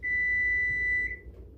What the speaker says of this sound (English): Turn off the timer.